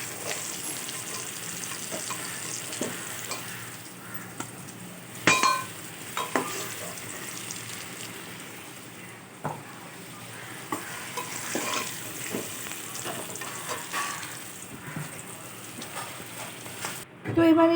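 Steady sizzle of potatoes frying in oil with intermittent scraping and clinks of a utensil stirring in a pan, fairly close, no talking.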